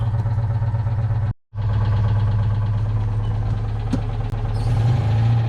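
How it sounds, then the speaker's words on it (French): A small Citroën Méhari engine runs steadily at close range with a constant low drone, briefly cut out for an instant before resuming. "Ce bruit typique, ce moteur."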